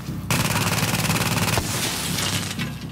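Rapid automatic gunfire from a weapon in the video game The Division: a fast, evenly spaced burst of loud shots lasting over a second, then trailing echoes and softer game noise.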